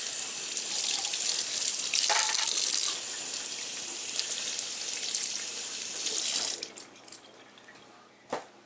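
Tap water runs steadily into a sink over two ears of corn being soaked, a loud continuous gush that cuts off near the end, followed by a few drips and splashes.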